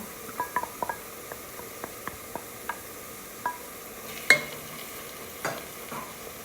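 Quiet, close frying of green chillies in a spice tempering, with scattered crackles and pops, plus light stirring scrapes and a louder clink partway through.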